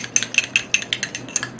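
A spoon or utensil stirs multani mitti cream mixed with vitamin E in a small bowl, giving a steady series of quick, close clinking taps against the sides with no talking.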